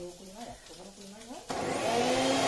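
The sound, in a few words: mixer grinder blending steamed leaves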